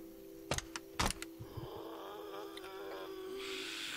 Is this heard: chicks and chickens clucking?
no